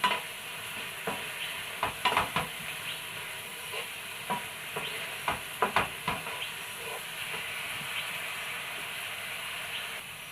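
A thick black banana mixture bubbles and cooks down in a pan, with a constant soft hiss and a scattering of sharp spatula scrapes and taps at irregular intervals.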